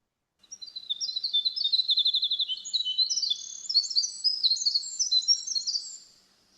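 A winter wren's song pours out as a fast, high, continuous cascade of bright trills and chattering notes, loud and close for about six seconds, with no talking.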